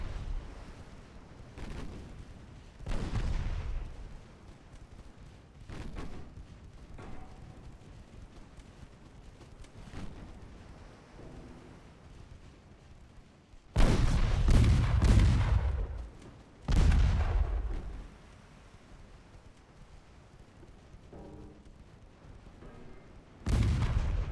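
Naval gunfire in the warship game Ultimate Admiral: Dreadnoughts, in a 1930 Ottoman campaign against the French. Deep booming salvos and blasts land at irregular intervals over a low rumbling background, some of them heavy and close and others softer. There is no talk.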